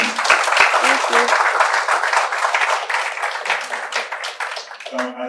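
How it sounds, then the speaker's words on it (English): Audience applause following a presentation on film licensing, a steady dense clatter of clapping that holds for several seconds, with a voice speaking over it near the end. "please a round of applause for you"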